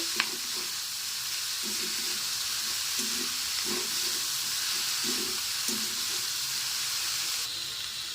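Shredded cabbage frying and being stirred in a pan, a steady broadband sizzle with rhythmic scraping stirs repeating about every second, close and continuous without any talking.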